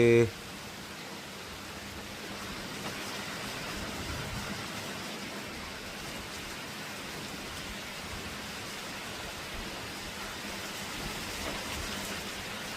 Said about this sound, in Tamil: விடிய காலமே வந்திருக்கு மழை.